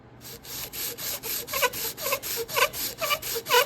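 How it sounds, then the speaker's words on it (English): Hand sanding with 220 grit sandpaper on granite for a big block Mopar engine's rear main seal repair, about a dozen rhythmic back-and-forth rasping strokes, close and steady. "With a lighter grit sandpaper. This is 220."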